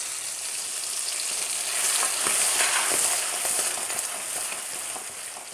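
Ground cashew paste hissing as it fries in a spiced masala for paneer butter masala, a dense close sizzle that swells in the middle while a spoon stirs with soft scraping strokes, no speech.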